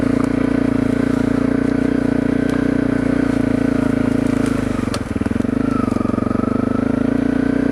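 Honda CRF250L dirt bike ridden up a wooded trail through brush, a loud steady engine drone close by with a brief dip and wobble in revs partway through, no talking.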